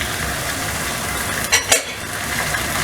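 One kilogram of fresh chicken goes into a hot pan with lightly browned onions, raising a steady sizzle with two sharp clatters of the pan or spoon midway.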